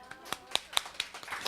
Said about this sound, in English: So please give applause to Anna.